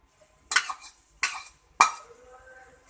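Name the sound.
stirring yellow noodles into boiling water in a pot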